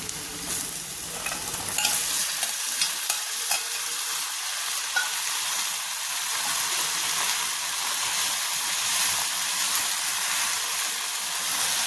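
Jackfruit pieces are stirred in a hot frying pan for a Kerala-style masala, giving a steady close sizzle and hiss with repeated scraping stir strokes throughout and no voices.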